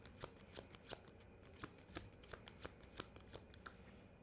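Tarot cards shuffled by hand in quick repeated riffles and soft taps, close and quiet, with no voice.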